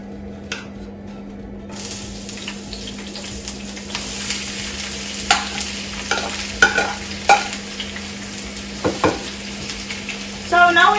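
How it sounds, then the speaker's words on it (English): Two large thinly sliced onions sauté in sunflower oil, giving a steady close sizzle with occasional stirring scrapes and clicks of a utensil in the pan. "So now we're going to let that saute"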